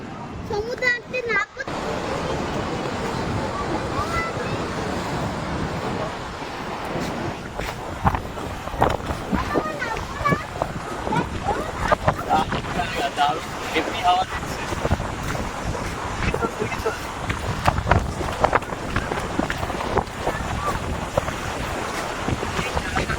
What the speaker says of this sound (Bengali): বিশাল হাওয়া দিচ্ছে